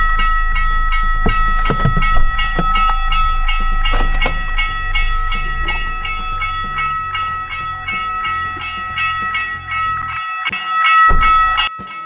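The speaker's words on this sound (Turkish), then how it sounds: "Şimdi onu bekleyen, ona yol veren tren şu anda geliyor." A train rumbles past close by in Belemedik in Turkey's Taurus Mountains, with a low engine drone, clanking wagons and a sustained high warning tone ringing throughout.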